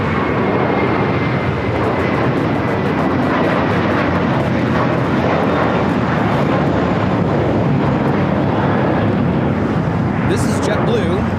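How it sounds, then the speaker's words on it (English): A JetBlue Airbus A321 taking off at LAX, its jet roar loud, broad and continuous throughout, with wind buffeting and faint voices beneath the engine noise. "This is JetBlue 224 taking off to JFK on the A321."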